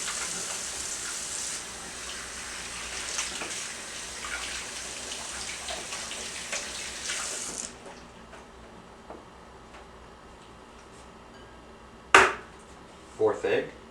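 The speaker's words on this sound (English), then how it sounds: "Wash your hands for this next step." Hands are rinsed under a running kitchen tap while making Easter bread, a steady close rush of water for about seven seconds that then cuts off, followed by a few sharp clunks.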